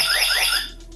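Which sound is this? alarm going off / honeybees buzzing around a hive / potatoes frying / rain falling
alarm going off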